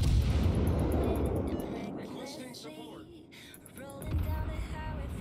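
Warship guns firing high-explosive shells in the naval game World of Warships, a heavy booming blast that rolls and fades, followed by a second rumbling shot near the end.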